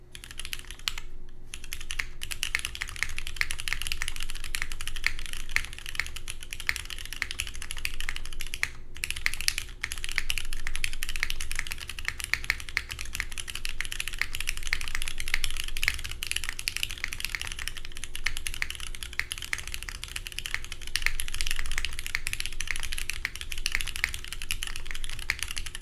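Steady, continuous typing on a Bowl Keyboards OC-62 mechanical keyboard fitted with KKB ABS keycaps, a dense run of close, crisp key clacks at an even pace throughout, with no talking.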